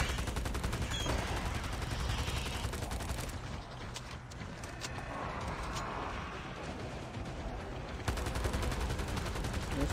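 Rapid continuous gunfire from a zombie-mode shooter video game, dense automatic bursts filling the whole stretch with a short lull in the middle.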